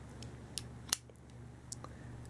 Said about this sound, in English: One thing I really like is the scissors.